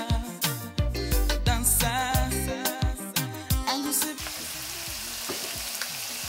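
Pieces of vegan stir-fry beef sizzle in a pan with thyme, vinegar and seasoning, giving a steady close fry that swells into a broad hiss, partly under rhythmic background music.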